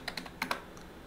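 Computer keyboard keys clicking during Photoshop work on a computer: a quick run of several light, close keystrokes, fairly faint, with no voices.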